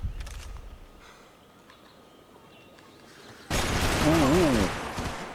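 A loud burst of gunfire in Max Payne erupts suddenly after a quieter stretch, sharp and dense for a couple of seconds before easing off.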